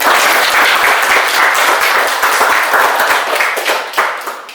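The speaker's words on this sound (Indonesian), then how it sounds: "Oke, tepuk tangan dulu." A group of people clapping hands together in a room, a loud dense burst of applause that runs steady for several seconds and then begins to thin out at the end.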